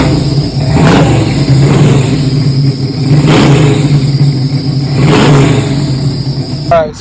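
A 1967 Shelby Mustang GT-500 engine running loud and close, with a rough idle broken by three or four rhythmic blips of revving, ending in a brief higher-pitched sound.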